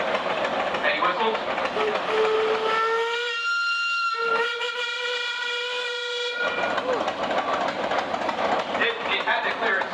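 A loud steam engine whistle at a steam show parade sounds one long harmonic blast of about four seconds, with a short dip midway, amid steady hissing and crowd murmur.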